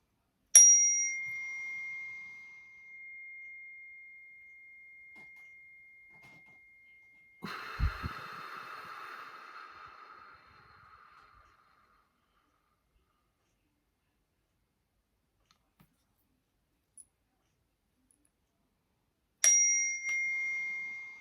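A bright bell rings out sharply and rings on for several seconds, followed by a short rustling burst, then quiet, then another single bright ring.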